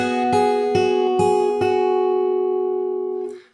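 Fingerstyle acoustic guitar plays a short passage from a song, a slap-struck chord followed by a few picked notes on the high strings, left ringing until it fades, close and alone.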